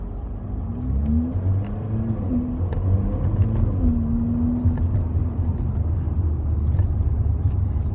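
A big Mercedes-AMG car with hard, lowered suspension is driving, its engine giving a loud, steady rumble heard from inside the cabin, with the pitch shifting slightly as it pulls along.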